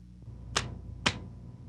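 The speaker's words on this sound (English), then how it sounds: "Most torque wrenches have a click that sounds when the proper torque has been reached." Two sharp mechanical clicks from a torque wrench tightening lug nuts, about half a second apart, close and crisp, over a quiet low hum.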